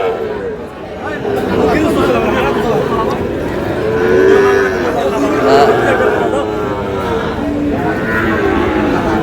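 Sahiwal cattle and calves low at a busy cattle market, several drawn-out moos rising over a constant crowd murmur, with people talking nearby throughout.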